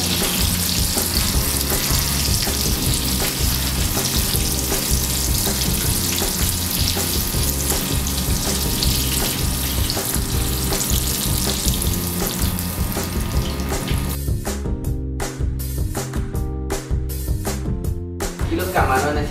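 Coconut-coated shrimp fry loudly in oil, a dense continuous sizzle up close that breaks into a few abrupt dropouts near the end, with no talking.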